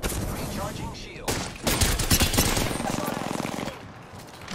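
Video-game gunfire in a multiplayer shooter: rapid bursts of automatic shots and overlapping weapon blasts, loud and dense through the middle, with bits of game sound and voices mixed in.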